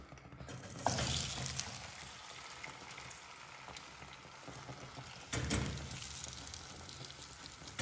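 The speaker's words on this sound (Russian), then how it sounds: "Оливковое маслечко чуть-чуть, хотя можно и так жарить, но я люблю с оливковым маслечком." Food fries in a little olive oil in a pan, giving a steady, quiet sizzle with occasional louder crackling bursts and stirring scrapes, and no talking.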